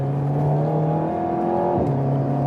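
Alpine A110 sports car driving on a wet road, its engine a steady close hum that drops in pitch briefly before holding again, continuous throughout.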